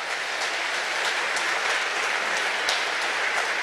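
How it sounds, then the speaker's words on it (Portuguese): A church congregation claps together in a continuous, fairly loud wash of applause that holds steady for the whole stretch, with no voices standing out. "Você pode aplaudir o Senhor?"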